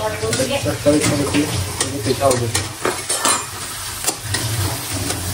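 Onion frying in a pan while being stirred, with a continuous hissing sizzle broken by repeated scraping and clinking of a utensil against the pan, close and fairly loud, with faint voice in the background.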